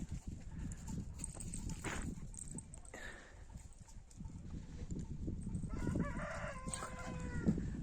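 Chickens and a rooster out on a sunny winter day, with clucking and a crow standing out over a busy, steady barnyard background.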